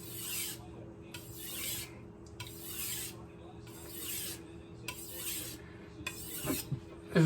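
Kitchen knife stroked across a whetstone to remove the burr, with six evenly spaced scraping passes close up and quiet gaps between them, ending in a light clink.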